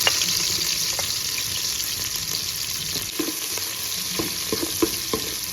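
Dried fish frying in hot coconut oil in a pan, a steady bright sizzle with occasional pops and soft stirring scrapes, close up and without talk.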